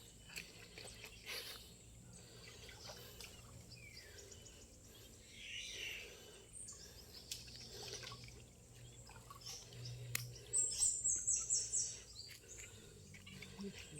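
A bird chirps in a brief, fast twittering burst outdoors near water, faint and somewhat distant, with soft background ambience and light movement noises.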